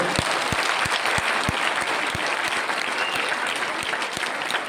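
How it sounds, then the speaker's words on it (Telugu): An audience claps loudly and continuously at a Telugu talk, a dense wash of hand claps with a few sharper individual slaps standing out, and no voices over it. "అర్థం అయితే చప్పట్లు కొట్టండి గట్టిగా"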